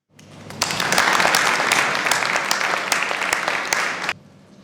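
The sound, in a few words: applause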